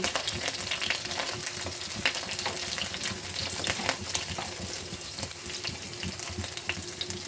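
Onions hitting hot oil and frying, a dense close sizzle with scattered crackles and stirring scrapes running steadily without any voices.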